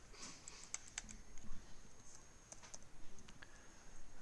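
Keys clatter on a computer keyboard in short, irregular bursts of soft clicks, quiet and close, with brief pauses between taps and no talking.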